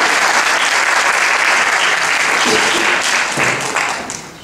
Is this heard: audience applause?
yes